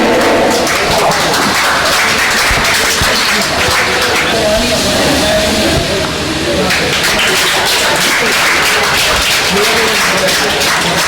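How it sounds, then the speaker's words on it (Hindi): Applause at a Hindi Diwas award ceremony at CGHS Ahmedabad, a dense steady clapping from a gathered audience lasting throughout, loud and close, with a voice speaking faintly underneath. "तालियों से उनकी स्वागत करें"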